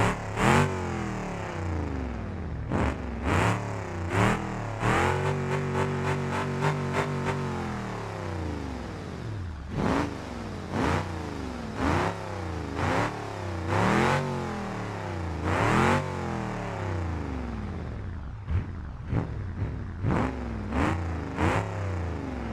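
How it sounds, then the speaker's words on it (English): A car in the BeamNG.Drive video game revs its engine hard with the muffler ripped off, giving a loud, raw exhaust note in repeated sharp rev bursts and one longer sustained rise and fall. "Let's just rip the muffler off real quick. Listen to that change."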